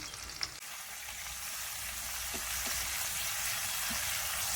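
Garlic and dried red chillies fry in oil for a banana fry, a steady soft sizzle that grows slightly louder, with a brief clatter at the start and no talking.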